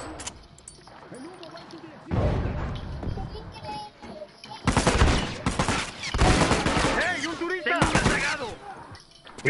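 Bursts of video game gunfire in The Last of Us multiplayer, rapid crackling volleys that come and go in clusters, loud at times and mixed with excited players talking over the shooting.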